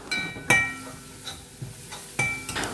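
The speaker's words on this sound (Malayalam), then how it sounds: "ഇങ്ങനെ ഇളക്കി ഒരു ഗോൾഡൻ ബ്രൗൺ കളറാവുന്നത് വരെ ഇളക്കണം" Onions and chilies frying in coconut oil, stirred with a metal utensil that knocks and clinks against the pan in a few irregular taps over a faint sizzle.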